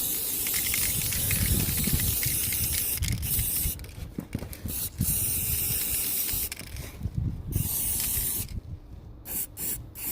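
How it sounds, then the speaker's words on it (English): An aerosol can sprays an e-bike controller box made from a plastic microwave container in bursts of close, loud hiss. Short pauses break up the bursts, and a few quick spurts come near the end. "Okay, so now I'm spraying quick."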